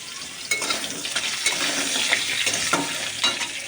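Hog plums (amra) fry in a pan of hot oil for a sour dal and fish curry dish, giving a steady crackling sizzle that runs close and continuous throughout with small bursts of spattering.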